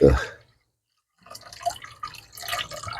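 Dirty water poured off a gold pan while panning Roaring Camp Mining Co paydirt, heard as a short splash followed by a run of wet trickling and dripping, close and moderately loud, with no talk.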